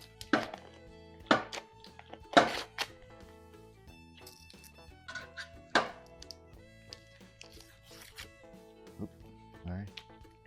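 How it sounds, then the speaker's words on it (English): A knife chops repeatedly on a cutting board, sharp irregular thunks with quieter scraping between, under a low kitchen hum and faint voices. "Been chopping it up."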